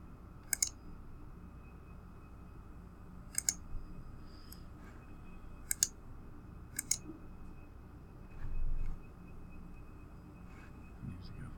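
A computer mouse clicking close by in quiet surroundings, sharp single and double clicks spaced a few seconds apart, with a soft low rumble partway through.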